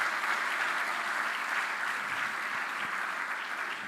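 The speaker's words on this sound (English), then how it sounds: "Clap for the engineers." An audience at a career expo claps steadily for the engineers, a dense, even wash of many hands that holds for the whole stretch and eases slightly at the end, with no talking over it.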